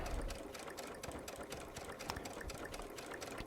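A Baby Lock Solaris sewing machine fitted with a walking foot stitches steadily along a curved line of top stitching, giving a continuous close mechanical whir with rapid even needle ticks, alone without any voices.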